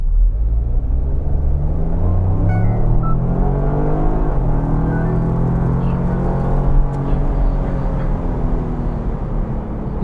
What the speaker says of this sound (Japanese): アクセルベタ踏みオン。